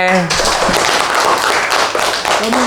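Students clapping for the classmate with the top exam score, a burst of applause in a school classroom, with a voice briefly heard at the start and end.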